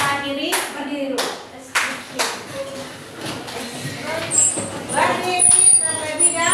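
Hand claps ring out in a classroom, several sharp separate claps spaced a second or so apart, close and fairly loud, with voices talking around them.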